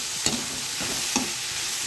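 Soya ball masala being stirred in a pan, a low steady sizzle broken by two short scraping spoon strokes against the pan, close and fairly quiet.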